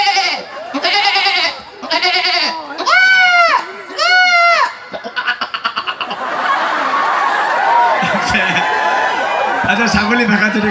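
A man in an Assamese comedy scene imitates a goat, giving a run of loud, wavering bleats one after another. Broad crowd noise follows that sounds like laughter or applause.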